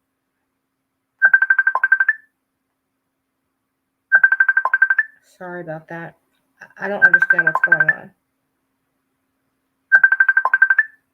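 A phone ringtone sounds in four evenly spaced, loud, rapidly pulsing bursts, with a person speaking between the later rings.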